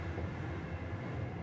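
An underground metro train runs with a steady, low, muffled rumble and rolling rail noise, faint and continuous throughout with no voices.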